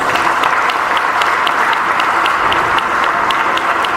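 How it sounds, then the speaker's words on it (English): An audience at a wrap-up session on mental wellness claps together in a loud, steady, dense burst of applause that holds for the whole stretch, with no talking over it. "celebrate yourself by clapping your hands"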